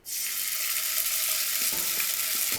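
Small spoonfuls of zucchini fritter batter sizzle and crackle in a hot oiled frying pan, a loud, steady frying hiss that starts abruptly and holds throughout with no talking.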